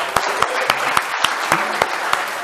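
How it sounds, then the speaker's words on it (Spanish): A classroom audience applauds volunteers at a science talk, short moderate clapping with distinct individual claps audible. "un aplauso para vuestros compañeros"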